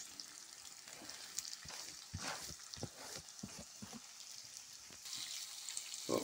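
Chopped onions hit a hot pan with garlic, ginger and curry leaves, crackling and sizzling up close while a spoon scrapes and clatters in a loose, irregular rhythm; nobody speaks.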